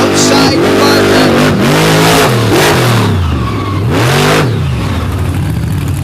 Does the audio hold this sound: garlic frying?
no